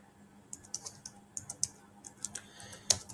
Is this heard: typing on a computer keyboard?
yes